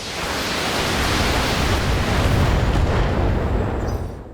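Long-range missiles launched from a BattleTech mech in the video game roar in a dense, sustained rumbling barrage of blasts and impacts lasting several seconds, loud and close, with no voices over it.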